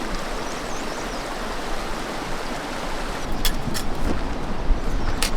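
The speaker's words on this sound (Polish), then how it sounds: "Mamy tutaj dostęp do bardzo fajnej rzeki." A clear river from a clean source in Nepal rushes past in a steady broadband wash, close and continuous, with faint clicks toward the end.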